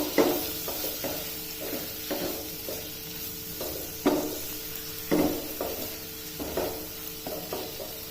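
Curry leaves sizzle in hot oil in a pan for a pepper egg roast, a steady hiss with repeated scraping strokes of a spoon stirring, close and continuous without talk.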